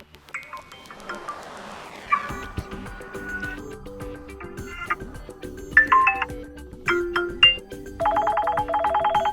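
Several pre-installed ringtones on a Vivo V20 phone play one after another, bright electronic melodies and chimes, each brief, ending with a steady repeating ring pattern.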